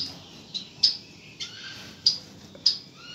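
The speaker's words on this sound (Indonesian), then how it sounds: "Itu pipit Jepang" Japanese pipit finches in an indoor aviary room give sharp, high squawks and chirps, five short bursts spaced irregularly over a quiet room hum.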